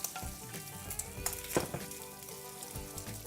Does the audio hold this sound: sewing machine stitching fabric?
no